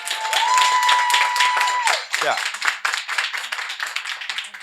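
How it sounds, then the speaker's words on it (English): Wedding guests clap and applaud for the fathers of the couple, a dense steady patter of many hands close by that fades after about two seconds, with a brief sustained tone at the start and talk over the end. "Just one more round of applause for the dads, please."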